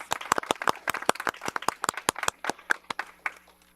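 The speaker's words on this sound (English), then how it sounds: "let's just give them another round of applause" Scattered applause for commissioners at a board meeting: a modest group of hands claps in irregular, distinct sharp bursts that stay fairly close and clear, thinning slightly toward the end.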